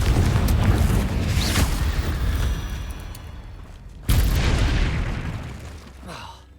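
Confringo spell blasts in the video game Hogwarts Legacy, two loud booming explosions, one at the start and another midway, each with a rumbling tail that fades out.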